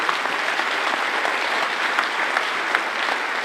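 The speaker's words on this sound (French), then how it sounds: "Allez, on applaudit Abellio." Steady, dense audience applause at a corporate business awards ceremony, a full room clapping evenly and continuously at moderate loudness with no voices over it.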